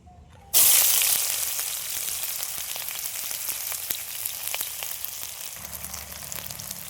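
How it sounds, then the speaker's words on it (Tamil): Two large onions dropped into hot oil for mutton masala, setting off a sudden loud sizzle that hisses steadily and close with faint crackles, then eases slightly as a low stirring rumble joins near the end. "2 பெரிய வெங்காயம் சேர்த்திக்கலாம்."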